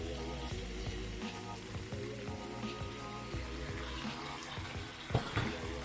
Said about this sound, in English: So to that, I'm going to add just a little bit more water.